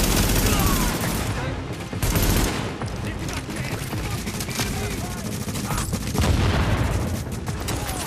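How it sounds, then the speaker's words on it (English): Heavy machine gun fire in the shooter The Division rattles in dense, continuous bursts with booming impacts, loud and close, while players talk over it. "He's got a machine gun, yeah."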